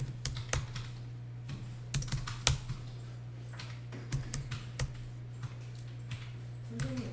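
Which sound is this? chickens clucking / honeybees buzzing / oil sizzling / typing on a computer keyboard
typing on a computer keyboard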